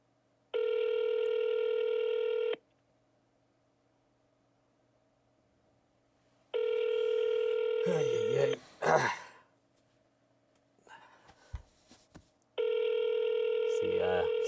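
An unanswered outgoing telephone ring tone repeats in long two-second bursts separated by silent gaps during a real estate cold call, with a man's muttering and sighs in between rings.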